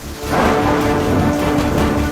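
Torrential monsoon rain pours down in Madhya Pradesh, a dense, steady roar of heavy downpour that stays loud and unbroken throughout, with no voices.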